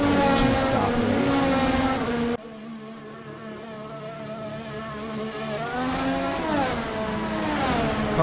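F1 race cars in the Assetto Corsa racing game at a Helsinki Grand Prix, engines droning and rising in pitch as they accelerate, a steady loud whine that drops briefly and then builds again.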